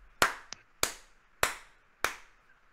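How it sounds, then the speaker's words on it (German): Four slow, evenly spaced hand claps, sharp and close, each fading quickly into near-silence with no voices in between. "Applaus, Applaus."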